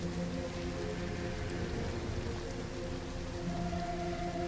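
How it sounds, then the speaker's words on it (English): Steady rain in the Star Citizen video game, a continuous hiss of falling drops with low rumbling underneath, holding even and loud through the whole stretch with no voices. "the rain definitely does not help"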